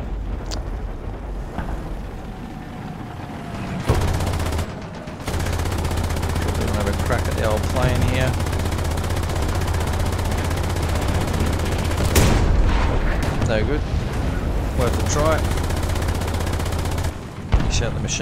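Machine-gun bursts and distant gunfire in a Panzer III M tank video game crackle over a low, steady engine rumble, with a person talking throughout.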